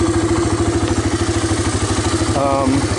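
A 1985 Honda Big Red ATC250ES three-wheeler idles with the choke off after a clogged carburetor jet was cleared, its loud, close, steady thumping pulse running throughout while someone talks over it.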